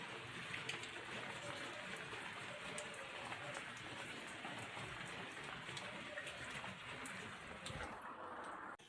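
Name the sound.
rain falling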